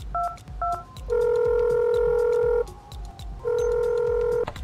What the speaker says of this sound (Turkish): Ya telefon kulübesinden nasıl arayamam ben?